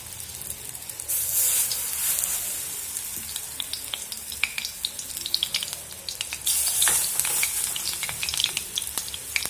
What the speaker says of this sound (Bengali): তেলটা গরম হয়ে গেলে এগুলো আমি এক এক করে ভেজে নেব।